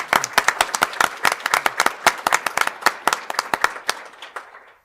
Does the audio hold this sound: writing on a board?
no